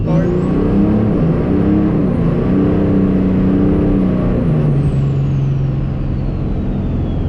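A compound-turbo Cummins diesel truck making about 1113 wheel horsepower accelerates loudly and close, its deep engine drone paired with a rising turbo whistle that holds high and then falls away as it passes.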